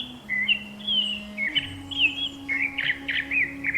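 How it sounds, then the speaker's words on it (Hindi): Birds calling and chirping through a forest, a string of bright tweets and whistled notes close by over a low, steady background hum, with no other voices. "पूरा जंगल पशु पक्षियों की आवाजों से गूंज रहा था"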